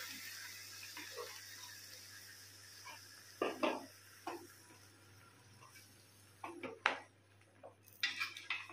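Chopped tomato pieces, about a kilo, drop into a pot in several soft, wet clattering bursts, with faint scraping and clinks of utensil against metal in a quiet kitchen.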